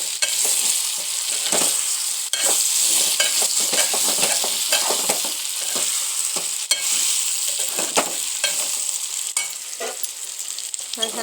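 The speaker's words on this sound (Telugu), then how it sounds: "మసాలాలన్నీ పట్టినదాకా కలుపుకొని" Mutton curry masala is stirred in a hot pan, with continuous sizzling and frying and repeated scraping strokes of the spoon, close and steady with no talking.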